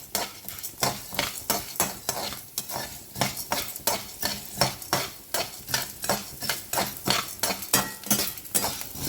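Sago pearls and peppercorns dry-roasting in a pan while being stirred, a steady rhythmic scraping and rattling of small grains against metal, repeating about twice a second, close and fairly loud with no talk.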